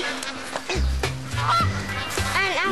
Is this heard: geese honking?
yes